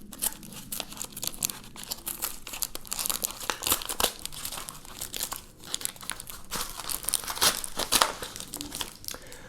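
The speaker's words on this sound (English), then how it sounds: "We'll have to see if it actually serves as a knife as we go along the fine edge of this envelope." An envelope is slit open along its edge with a credit card, giving a close run of crinkling, tearing and scraping paper sounds lasting several seconds, with no talk.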